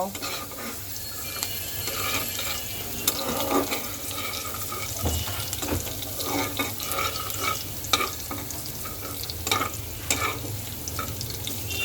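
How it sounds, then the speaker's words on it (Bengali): Two cloves of garlic frying in a pan for a vegetable noodle dish, a steady close sizzle with scattered stirring scrapes and clinks throughout, no voices. "রসুনটাকে আমি খুব সুন্দর করে ভেজে নেব"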